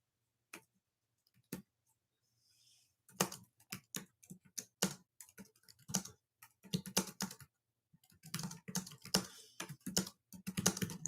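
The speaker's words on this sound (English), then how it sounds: "And let me type it in." Keys typed on a computer keyboard during a live-stream giveaway, heard as bursts of close, crisp clicks with short pauses between irregular runs, and no talking.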